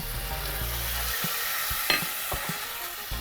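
Broth is poured onto millet frying in a pot for Cossack kulish, bringing a loud hissing sizzle with a few stirring knocks against the pot, close up.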